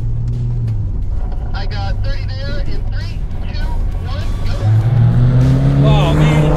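A Dodge Viper RT/10 roars through the gears in a drag race, with a loud steady engine drone that rises in pitch toward the end, and someone talks over it.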